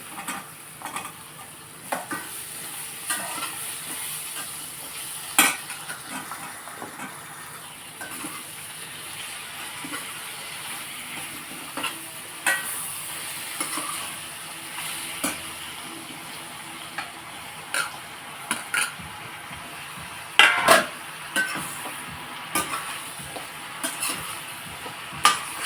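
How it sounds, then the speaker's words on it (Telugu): Bottle gourd pieces cook with onions in a pan for a sesame-flour curry, giving a quiet, steady sizzle punctuated by scattered clinks and scrapes of stirring, with no talking. "ఇప్పుడు ఆనపకాయ ముక్కలు వేసి ఆనపకాయ ముక్కలు కూడా మగ్గించేద్దాం"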